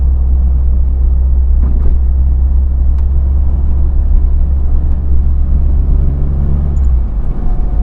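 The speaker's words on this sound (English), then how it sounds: "Now we're deaccelerating. We're going down the hill." A turbocharged, fuel-injected classic Mini Cooper coasts downhill while decelerating, a loud steady low engine and road rumble heard from inside the car without letup.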